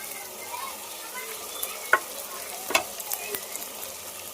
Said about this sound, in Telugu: బాగా పచ్చి వాసన పోయేంత వరకు బాగా ఫ్రై చేసేసుకోవాలి.